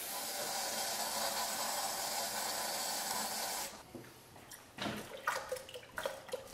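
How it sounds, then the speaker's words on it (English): A steady, loud rush of lukewarm water pours continuously into a wine fermenter for several seconds, then stops, followed by a few splashes and clinks nearby. "Top up the fermenter to the 6-gallon mark with lukewarm water."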